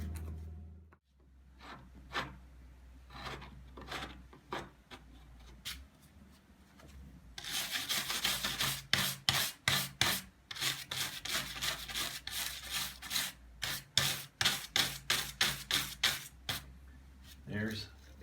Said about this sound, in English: You scrape along the side to get the fiber out, because it's a fungus.